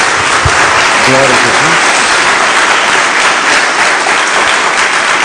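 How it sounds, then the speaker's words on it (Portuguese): Sustained applause from a church congregation fills the whole stretch, steady and dense, with a voice briefly calling out over the clapping near the start. "Dê uma salva de palmas ao Senhor."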